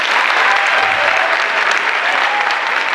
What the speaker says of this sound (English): can we clap and applaud them?